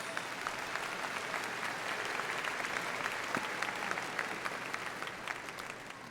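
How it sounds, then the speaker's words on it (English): An audience at a 2018 Hebron High School graduation applauds the school trustees, giving dense, sustained clapping that holds steady for about six seconds with no talk over it. "Please give our trustees a warm round of applause."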